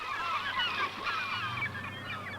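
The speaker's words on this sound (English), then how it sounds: "The herring gull is one of the few seabirds to have increased dramatically in recent decades." Herring gull calls from a bay meeting the open sea, a dense run of harsh, overlapping squawking cries from several birds over a steady low background rumble, continuous for a couple of seconds.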